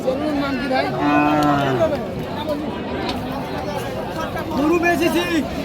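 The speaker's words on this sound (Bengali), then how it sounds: "এত গরু কোথেকে আসলো" Cattle lowing at a rural market in Raniganj, Dinajpur, where dry cows are sold: several drawn-out moos sound close by, rising over a steady hum of crowd chatter and people talking.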